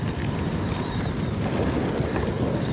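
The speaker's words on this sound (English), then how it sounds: "it's windy" Strong coastal wind buffets the microphone in a steady, loud roar with low rumbling gusts, heard while mountain biking an e-bike near the shoreline on a circular route around Costa Teguise, Lanzarote.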